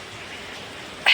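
Steady, even hiss of monsoon rain falling outdoors on a morning during Shravan, continuous and moderately loud with no voices, ending in a brief sharper spatter.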